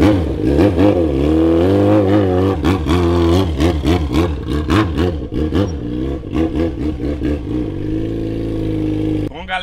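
Yamaha XJ6 motorcycle engine revving on the spot for a burnout test, with repeated throttle blips rising and falling in pitch, then a sustained high rev, loud and close with a clattery edge.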